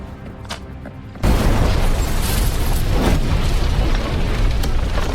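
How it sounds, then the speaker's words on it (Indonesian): A bomb detonates in an action film, a sudden loud boom that cuts in after a quieter stretch and rolls into a long, dense rumble with debris noise. "Jack akhirnya berhasil meledakkan bom yang sebelumnya telah ia pasang"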